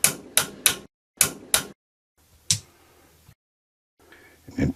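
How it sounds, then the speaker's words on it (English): Sharp metallic taps ring out close by as a hammer strikes a valve spring on a Kubota/Kawasaki water-cooled V-twin engine, a quick cluster of five followed by a couple of isolated strikes with short silences between. "we're going to tap it one time with a pair of pliers or a hammer"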